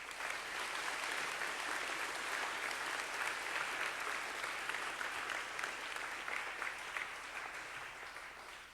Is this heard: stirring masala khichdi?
no